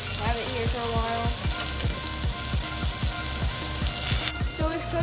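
Steak sizzling steadily in a hot pan, a loud continuous frying hiss, with rhythmic low thumps and a brief tonal sound underneath.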